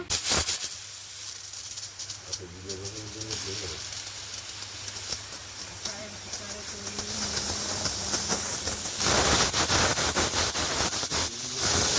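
A pressure cooker of rice, lentils and potatoes hisses steam steadily, the hiss surging louder toward the end. Someone talks over it at times.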